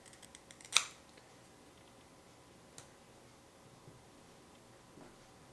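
A single crisp snip of scissors cutting archery sight tape to size, close and clear in an otherwise quiet room, followed by faint small ticks.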